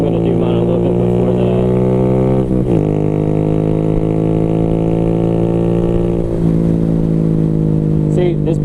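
A 2022 Honda Grom motorcycle engine droning steadily and loudly while riding at speed, with pitch dipping briefly twice as gears shift, under constant wind noise.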